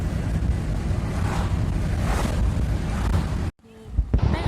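Strong outdoor wind near the Jagannath temple in Dibrugarh roars steadily into the microphone for most of the stretch, then cuts off abruptly into quieter ambience.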